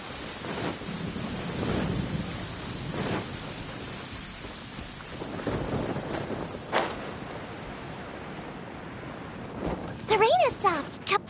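Rain falls with rumbles of thunder in a video game storm, steady hiss punctuated by low rolls, ending with brief bright chimes.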